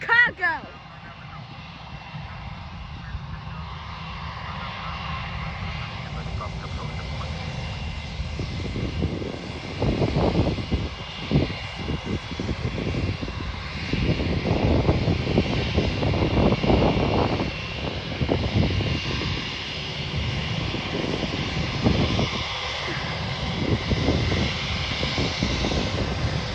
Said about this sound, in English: We got JetBlue, and then we got a United A321 to Chicago.